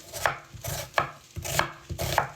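An onion is chopped with a knife on a board while vegetables are prepared for a meatball dish: four firm, evenly spaced cuts, close and clear, with no talk.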